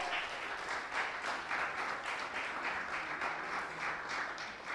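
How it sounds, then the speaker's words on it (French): Steady audience applause at a quiz-style competition event, a dense, even clatter of many hands clapping throughout, moderately loud with no one speaking over it. "on les applaudit s'il vous plaît."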